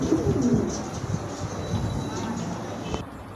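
A pair of Shirting pigeons coo softly amid steady background noise and faint chatter, low throaty calls repeating irregularly at close range.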